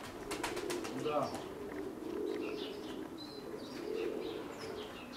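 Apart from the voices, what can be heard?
Tbilisi tumbler pigeons cooing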